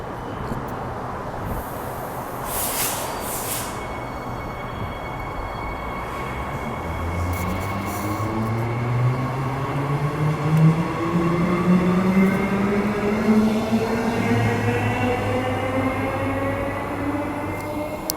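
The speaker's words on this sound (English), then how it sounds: "wait for the train to leave" A Perth suburban train pulling away from Whitfords station, a rising electric whine that sweeps upward in pitch over a broad rumble, growing louder as it accelerates, with faint clunks early on.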